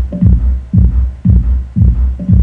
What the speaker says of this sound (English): we'll arrive at a smooth drum hit, kick hit